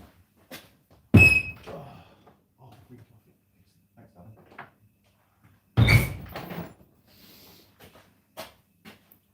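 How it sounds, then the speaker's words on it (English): A door opened for a visitor in a home, with two loud thunks several seconds apart, softer handling noises between them and people talking throughout. "oh, there's somebody at the door."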